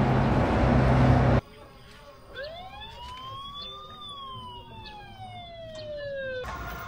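A surveillance camera alarm mounted on a house wails. After a burst of loud broadband noise, a clear electronic siren tone sweeps up, then slowly glides down over several seconds.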